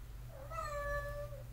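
A cat lets out a single drawn-out, upset meow that wavers and trails off, close but fairly quiet over a low background hum.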